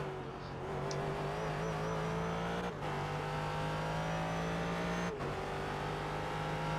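Race car engines in the iRacing video game run loud and steady while trailing a McLaren, a sustained engine drone with brief dips at gear shifts.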